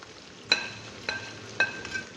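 Whole spices roasting in a pan with nutmeg, mace, star anise and cinnamon pieces, heard as a soft background sizzle punctuated by three distinct metallic spoon scrapes against the pan.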